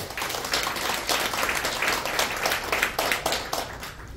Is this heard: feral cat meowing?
no